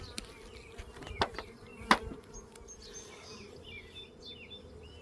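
Russian honeybees buzz softly around an open beehive during an inspection, a faint continuous hum broken by a few sharp clicks and knocks from the hive.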